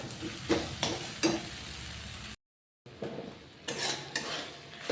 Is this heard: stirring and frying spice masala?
yes